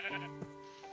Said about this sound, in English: So there we saw we got 2 sheep.